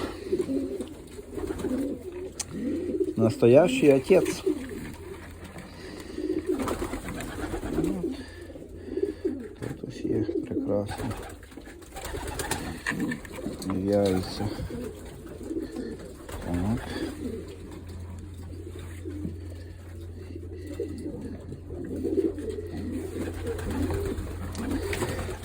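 Breeding pigeons in a loft coo repeatedly in soft, throaty bursts throughout, close and moderately loud, while someone speaks intermittently and other background rustling continues.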